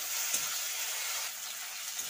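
Potato and onion frying together in hot oil with salt and turmeric, a steady soft sizzle close by that carries on evenly, with no talk over it.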